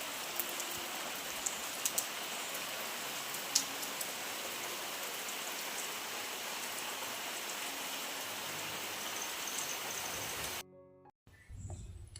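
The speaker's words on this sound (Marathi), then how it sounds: "दुपारी 3 वाजल्यापासून जो पाऊस चालू झाला जोरदार" Heavy evening rain falls steadily on a village, a dense close hiss of drops on surfaces that holds unbroken for about ten seconds and then cuts off abruptly.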